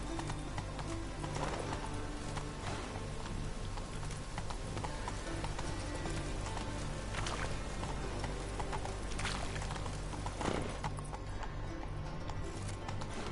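Roach, the horse in The Witcher 3, gallops with steady rhythmic hoofbeats and occasional snorts over continuous game ambience, moderately loud and close throughout the run.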